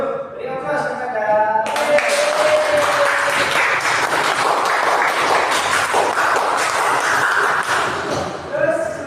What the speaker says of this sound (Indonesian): Beri aplaus kepada